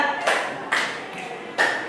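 Three sharp hand claps from a classroom exercise at an Indonesian vocational school, spaced unevenly and close by, each a bright broadband burst with short ringing decay, and no talking.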